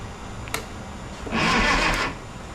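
A Cub Cadet lawn tractor engine, revived after twenty years of sitting, cranks over on battery power. A short whirring, grinding burst lasts about a second after a faint click, fairly close.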